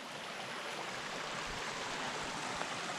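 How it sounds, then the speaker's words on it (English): A small forest creek runs steadily beside a campsite with a fire pit, a constant close rushing hiss of flowing water with no voices. "nice little creek running here"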